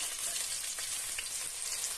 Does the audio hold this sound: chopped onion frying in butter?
yes